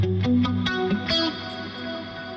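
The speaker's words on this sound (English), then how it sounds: "Let's grab a guitar, make sure we've got some tones." Electric guitar plays through distortion and effects units, with a few loud, sustained plucked notes and chords ringing out and then decaying in a reverberant room.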